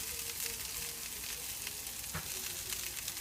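Pierogies frying in oil in a pan, giving a steady close sizzle with a soft crackle throughout and one brief louder pop near the end.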